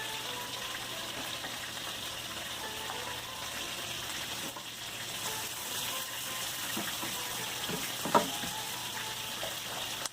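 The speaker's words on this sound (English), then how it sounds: "You have to put in our onions. We have to cook it to golden brown." Onions frying in a pan, cooked toward golden brown: a steady, moderate sizzle runs throughout, with a faint clink near the end and no talking.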